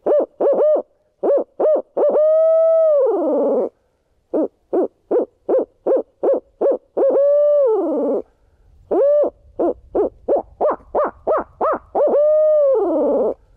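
A person's voice imitates an owl, ending some hoots with a throaty roll. Bursts of short, quick hoots alternate with longer rolled calls, loud and close, with no talking over them.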